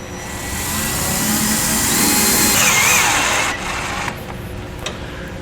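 A 1/4 inch nut driver on a power tool spins a self-tapping screw into the underside of a truck frame, a loud steady whir lasting about three seconds before dropping to a lower hum with a few small clicks.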